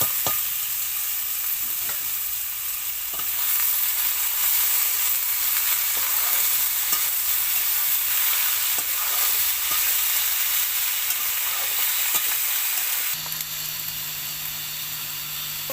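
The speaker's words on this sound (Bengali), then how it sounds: "এবার আমি বিনসটা ঢেলে দিলাম এ কিন্তু বরবটি না বিনস" Green beans fry in a pan for a shrimp and potato dish, giving a loud, steady sizzle with occasional stirring scrapes, and a low machine hum joins in near the end.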